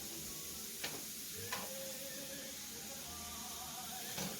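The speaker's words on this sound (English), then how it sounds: "I'm going to finish frying these up" Soft, steady sizzling of food frying in a pan, with faint occasional clicks and taps, no voices.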